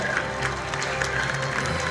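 Audience applauding at the Kazan Islamic Clothes 2018 fashion festival show, a steady, dense wash of clapping that carries evenly through the whole stretch without pauses.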